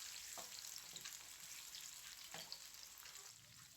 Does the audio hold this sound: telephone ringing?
no